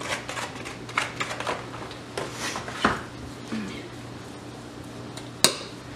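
Sugar and butter are being creamed together in a bowl, giving scraping, clinking utensil strokes against the bowl in irregular bursts with a few sharper knocks, fairly quiet and close.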